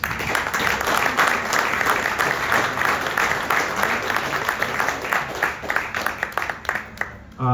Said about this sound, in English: So I want you to all give them a big round of applause.